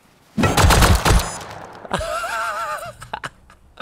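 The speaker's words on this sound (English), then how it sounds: "I just hit a turret with a rock and I fucking got shot to death" Turret gunfire in the survival game Rust: a loud, rapid burst of automatic shots up close, followed by quieter game effects and short impacts.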